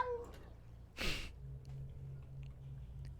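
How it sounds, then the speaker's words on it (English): A cat gives a short, faint meow at the very start, followed about a second later by a brief, breathy burst against a low, steady background hum. "Meow."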